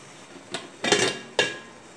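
Steamed sweet idiyappam made from ration rice is tipped out onto a plate, giving a few short, close clatters of dishware spaced apart in an otherwise quiet kitchen.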